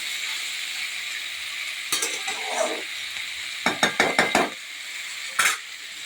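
Small dried fish cooking in oil over low heat without water, with a quiet hiss under a few scraping strokes and a quick run of sharp clatters of the spatula against the pan.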